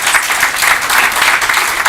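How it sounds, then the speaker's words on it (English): An audience at a talk bursts into steady, loud applause, a dense wash of many hands clapping close by for the whole short stretch. "Can we give Francesca a round of applause?"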